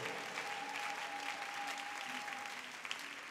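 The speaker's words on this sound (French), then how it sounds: "Est-ce qu'on peut remercier le Seigneur, lui donner des acclamations?" Church congregation applauding the Lord, a steady, even roar of clapping heard at moderate distance, with a faint sustained tone running underneath.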